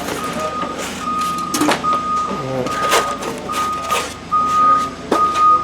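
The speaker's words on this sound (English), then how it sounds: "Using a fork truck to go dump it." A fork truck's reversing alarm beeps at a steady rhythm while it moves to dump a small hopper dumpster at a shop where an RV roof is being redone, with engine rumble and scattered clanks around it.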